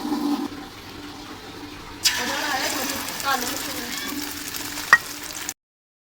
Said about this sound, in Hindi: हमारे अंडे हो रहे हैं फ्राई, जो मैं बना रही हूँ आमलेट